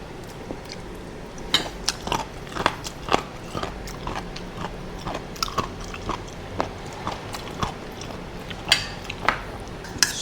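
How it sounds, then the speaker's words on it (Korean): Close, wet chewing of sea snail with repeated crunchy bites and clicks of utensils against dishes, an irregular rhythm of mouth sounds with no talking. "소라 씹는데 정말 맛있습니다."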